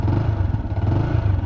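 A Yamaha XSR 155 motorcycle with a steel exhaust idles close by, giving a steady, slightly bassy engine and exhaust drone with a continuous low throb and no talking.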